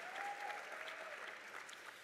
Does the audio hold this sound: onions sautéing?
no